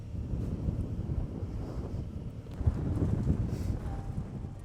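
Wind gusts over a mountain trail at an off-highway vehicle area, buffeting the microphone with a low, uneven rumble that swells and eases, with no talk.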